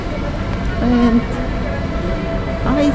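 Inside a carriage of the Gotthard Panorama Express crossing Switzerland, a steady rumbling rail roar fills the space, with brief tonal squeals or horn notes over it and voices talking faintly.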